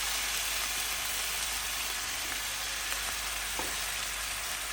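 Pork fat and cooking liquid sizzle steadily in a pan on an off-grid cabin stove for spicy pork fajitas, a constant crackling hiss with a couple of faint clicks partway through, close and unbroken, with no voices.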